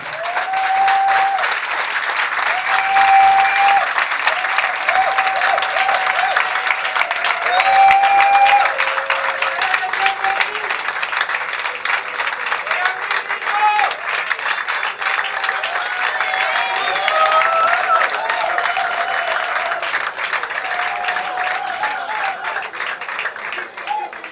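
An audience at a community association gathering claps and applauds loudly for the invited guests, a dense sustained wave of clapping with voices and a few shouts mixed in throughout.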